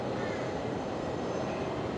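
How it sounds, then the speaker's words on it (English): A Fokker 100 airliner at Brisbane Airport produces a steady, broad engine roar, fairly distant and constant throughout. "What an absolute stunner there. The Fokker 100."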